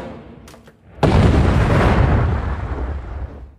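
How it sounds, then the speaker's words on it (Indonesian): A grenade explodes in a film scene: a few faint sounds, then a sudden loud, close blast that rolls into a long, heavy rumble and slowly fades. "Jian mengeluarkan 2 buah granat dan melemparkannya ke arah Udin Bacok."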